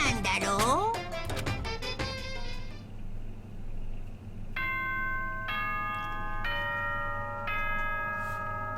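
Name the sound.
announcement chime from Danganronpa video game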